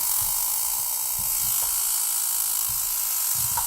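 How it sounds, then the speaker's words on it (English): An EMP generator held near an iPhone 5S gives off a steady high-pitched electrical buzz throughout, with faint low thumps of handling underneath. "This is an iPhone 5S and an EMP, what it'll do to it."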